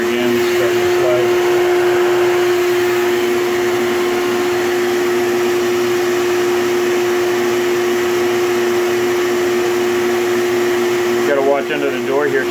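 A vacuum cleaner runs steadily and loudly throughout, a constant motor whine with a strong steady tone, used while dealing with yellow jackets under a floor; a brief shift near the end.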